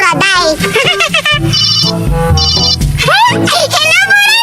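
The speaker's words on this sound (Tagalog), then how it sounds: "Tatawagan ko si Buraday." A toy telephone rings with a bright electronic chime in two short bursts, mixed in among lively talking voices that run throughout.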